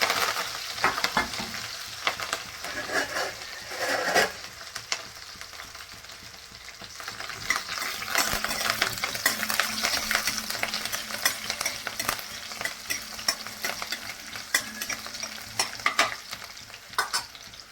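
Cumin seeds, along with garlic, sizzle and crackle in hot oil while a spoon stirs, giving a steady, close frying hiss with scraping strokes and no talk.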